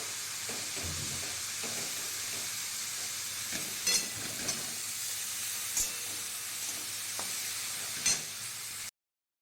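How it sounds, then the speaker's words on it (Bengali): Boiled jackfruit seeds fry in a pan with a steady, soft sizzle and hiss, broken by occasional clicks and scrapes of stirring, close and continuous until it cuts off. "কাঁঠালের বিচি যেহেতু সিদ্ধ হয়ে আছে তাই বেশি ভাজার দরকার নেই জাস্ট দু সেকেন্ড মতন ভাজলে হয়ে যাবে"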